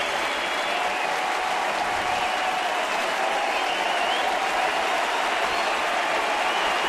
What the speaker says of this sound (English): And the crowd on their feet here at Rogers Center